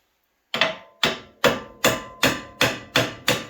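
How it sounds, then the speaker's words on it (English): A metal plow bracket on a New Holland frame mount is tapped into place with a hammer, eight sharp evenly spaced knocks ringing out close and loud with no talk. "And we'll just give that a love tap."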